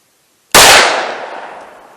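A single, sharp, very loud gunshot from a .45 ACP pistol firing a Liberty Civil Defense +P round into ballistic gel, cracking at once and then trailing off into a long, fading decay.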